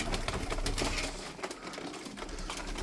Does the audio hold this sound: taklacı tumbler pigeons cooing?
yes